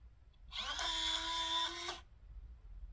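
A Piko MP5 motor on an H0 model railway turnout switches once on a 12-volt test supply, giving a single mechanical whirring buzz of about a second and a half that starts and stops abruptly, close and alone.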